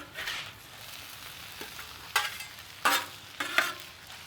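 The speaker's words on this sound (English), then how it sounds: "we're going to go ahead and start heating up this Cheese Whiz again" Cheese Whiz heating in a pan for Philly cheesesteak, a soft sizzle broken by several short scraping stirs of a utensil against the pan, close and fairly quiet, with no talk.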